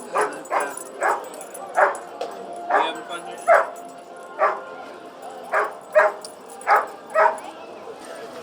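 Small dogs at a puppy pool party for an animal charity bark and yip repeatedly in short, evenly spaced bursts, fairly close, with a person speaking briefly among the barks.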